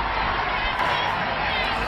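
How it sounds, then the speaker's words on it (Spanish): A crowd applauds and cheers in an old recorded comedy speech sketch, a dense steady wash of clapping and crowd noise filling the short clip with no clear break. "Hay la gente como aplaude."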